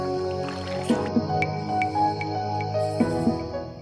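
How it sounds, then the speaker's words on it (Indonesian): Canoe paddling on a lake in Aitinyo, with soft wet dips and drips of paddles breaking the water at irregular intervals, close by over a steady background hum. "kita akan mendayung bersama-sama ditemani beliau menuju ke hulu"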